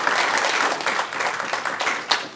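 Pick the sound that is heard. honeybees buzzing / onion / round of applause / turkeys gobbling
round of applause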